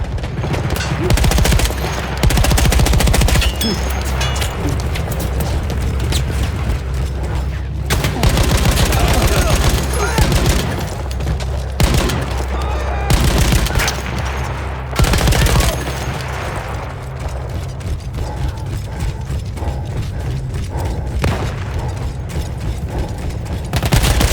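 Machine gun firing in the Battlefield 1 video game, heavy rapid bursts of automatic fire with mechanical clatter running almost continuously and loud in the foreground, over a dense battle din.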